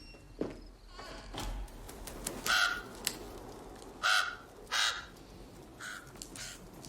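A crow caws several times in short, harsh bursts spread over a few seconds, heard outdoors over a steady, noisy background.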